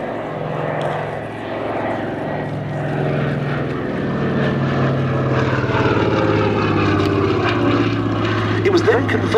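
A Lockheed 12A Electra Junior twin-engine prop plane at the Duxford Battle of Britain Airshow produces a steady, loud engine drone that holds throughout and swells slightly toward the end, with a voice talking over it.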